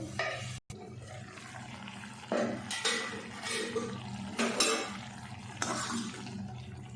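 Mutton karahi simmering under a lid in a pot over low heat, a steady close bubbling and hissing wash with a few louder surges and faint clinks, no talk.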